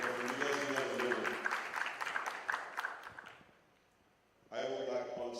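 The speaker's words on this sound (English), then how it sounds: "big round of applause for Praful" Audience applause at a foundation conclave, dense clapping for about three seconds that fades into a lull before a second loud burst of clapping resumes near the end.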